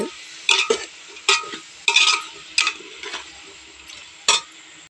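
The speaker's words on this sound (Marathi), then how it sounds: "हे सगळं मिक्स करून घ्यायचं" Soybean biryani ingredients stirred in a pot with a spoon, a series of distinct scraping strokes and soft sizzling clatter, close and fairly loud with no talking.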